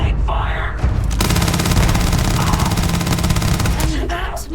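Sustained automatic gunfire in Starfield, a loud unbroken rattle of rapid shots lasting several seconds between short bursts of other game noise, with brief voices before and after.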